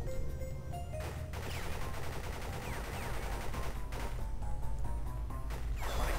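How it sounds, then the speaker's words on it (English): Dense bursts of gunfire from a machine gun in the Crash Bandicoot video game, during a fight against a hyena, rattle on steadily across the whole stretch with sharp cracks and impacts, loud and close, with no talk over them. "You're fighting the hyena with the machine gun"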